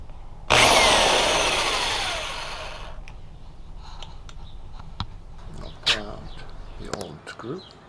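A power drill drives a 3-inch replacement screw into a door with a loud whirring burst that fades over about two seconds. Scattered clicks and brief voices follow.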